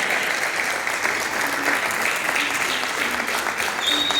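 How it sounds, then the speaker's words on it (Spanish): An audience gives sustained applause after a performance by a children's and youth orchestra. The clapping forms a dense, even wash that neither builds nor fades, with voices faintly beneath it. "Fuerte los aplausos."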